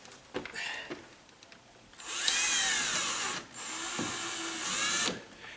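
A power drill drives a small bit into a door hinge, two close high-pitched whirring bursts separated by a short pause, after some quiet handling clicks.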